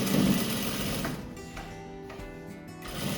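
A sewing machine stitches the side seams of a cotton pillowcase with a 0.5–0.6 cm seam allowance, its motor whirring steadily and close up for the whole stretch, briefly slowing near the middle before picking up speed again.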